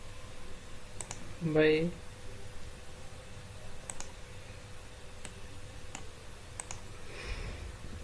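Mouse clicks sound sparsely while points are selected in CAD software, sharp faint single ticks spaced a few seconds apart, with a brief spoken word among them.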